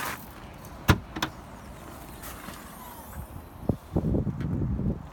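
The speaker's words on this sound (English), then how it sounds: "I'll just show you into the boot." Boot of a Mercedes-Benz A45 AMG being opened, with a few sharp clicks and a latch thunk followed by soft rustling handling sounds, fairly close and quiet.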